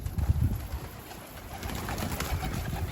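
A Japanese bango pigeon coos nearby in soft, low repeated bursts over a few seconds, with no talk.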